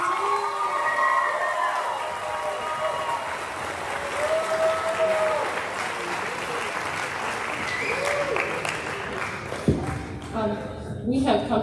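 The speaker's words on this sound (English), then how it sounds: "One more round of applause for the classic." Sustained applause from a choral concert audience, a broad steady clatter of many hands at an even level, with brief voices or cheers poking through and a few sharper claps toward the end.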